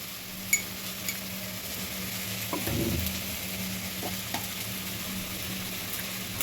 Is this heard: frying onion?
yes